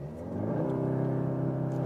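An Audi S3 pulls away hard under launch control, its engine note climbing and rising in a short, fairly quiet burst of acceleration heard from the cabin.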